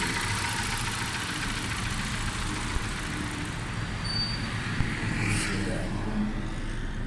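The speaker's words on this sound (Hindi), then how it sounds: "गाड़ी स्टार्ट है माशाल्लाह, साउंड ज़बरदस्त है गाड़ी का, परफेक्ट साउंड है" A 2005 Suzuki Baleno with a tappet and fuel fault idling, a steady mid-pitched engine drone heard close up and continuous, with faint background noise and no talk.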